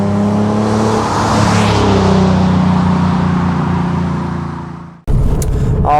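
An Infiniti G37 with a custom exhaust drives close by, its deep droning exhaust note rising and falling steadily for about five seconds before cutting off abruptly, then a short burst of rougher engine noise returns.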